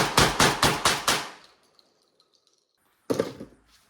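Five rapid, heavy shotgun blasts in a row fired during a Panzer Arms Turknelli torture test, each a loud sharp report with a short decaying tail, then a pause and one more loud shot near the end.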